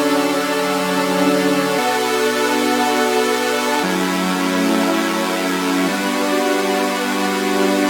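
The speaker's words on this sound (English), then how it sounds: "I went ahead and copied the pattern from the pad, and I put it into a saw chord" Synthesizer saw chord playing a pattern copied from a pad, for the drop section of a cover, loud, bright and buzzy, with sustained chords shifting every two seconds and no voices.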